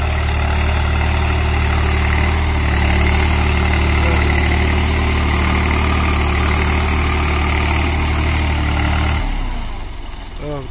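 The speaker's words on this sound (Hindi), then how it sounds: "ये कैसा ट्रैक्टर है।" A 2020 Swaraj 735 FE tractor fitted with a plough idles with a loud, steady, close diesel rumble that drops off sharply near the end.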